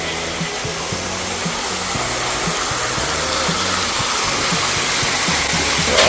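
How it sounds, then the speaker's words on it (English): An indoor waterfall spills from artificial caves of massive stones in an airport terminal in Yangon, making a steady, loud rushing roar throughout. A faint, repeating low tonal pattern sits beneath it. "the waterfalls is actually coming out of these caves, all these massive stones, grand stuff."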